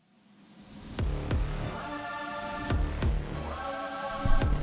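Original fight song from a Friday Night Funkin' mod: a slowish electronic track with a hard drum hit about every second and bright synth chords rising in after a quick fade-in, fairly quiet and without vocals.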